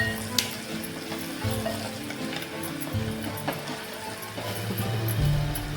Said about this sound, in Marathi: आता आपण हे मिक्स करून घेणार आहोत